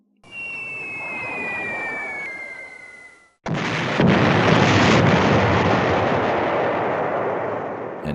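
A B-17 bomber group salvoes its bomb load as a board game sound effect: a falling whistle with a descending tone, then a brief gap and a loud, sustained roaring rumble of explosions with no talk.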